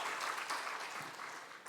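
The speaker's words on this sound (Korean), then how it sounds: "우레와 같은 박수." A church congregation at a Sunday afternoon service in Sejong claps together, a moderately faint, even patter of many hands with a few sharper claps near the end.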